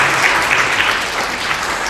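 A church congregation applauding, a dense, even clapping that stays loud and steady throughout.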